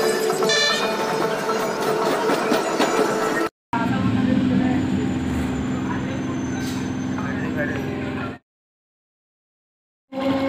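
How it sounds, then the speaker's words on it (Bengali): A train bound for Digha rumbles steadily along the rails near Panskura station with a constant low roar and rattling, briefly cutting out, then dropping to silence near the end. "আর এখন এই ট্রেনটা দেখো দীঘায় যাচ্ছে।"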